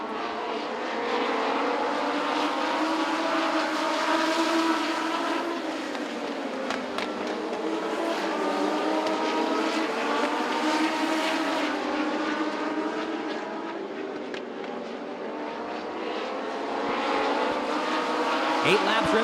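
Legends race cars roar around Southside Speedway, a continuous droning engine chorus with rising and falling pitch as cars pass, heard alongside a commentator's voice.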